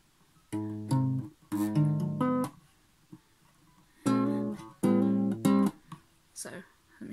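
An acoustic guitar strung with thicker strings plays a riff, chords ringing in short bursts separated by brief silences, close and clear with no talking.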